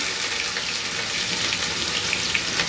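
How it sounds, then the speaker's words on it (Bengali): Chopped onions frying with crushed cardamom, cinnamon pieces and bay leaves in a pan, a steady close sizzle with crackling that continues evenly throughout. "এগুলো দিয়ে আমি একটু ভেজে নেব"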